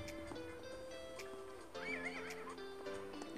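A horse in a Toca Boca video game gives a clear, moderately loud whinny near the middle, with a few hoof clops and game music tones around it.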